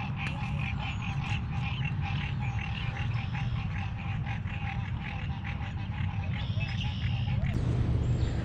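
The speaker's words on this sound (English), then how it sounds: "Frogs." Frogs croak steadily by a lake near the Red River, a dense chorus of overlapping calls holding close and loud throughout, with no talk over it.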